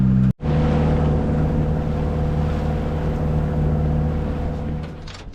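A boat motor drones steadily at close range, a constant low hum with water wash, briefly cutting out at the start and easing off near the end.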